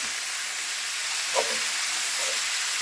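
Meat browning in hot frying oil for homemade tacos, a steady loud sizzle with faint crackles and no talking.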